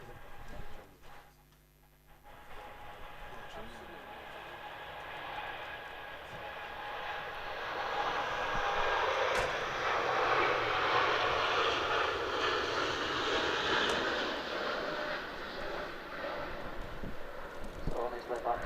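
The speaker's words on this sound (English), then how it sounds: "Lots of ribbons over the wing there on the Etihad Dreamliner." Etihad Boeing Dreamliner airliner at Manchester Airport in wind and rain, its engines building into a broad, sustained roar that swells and then fades slowly, heard from a distance beneath someone talking.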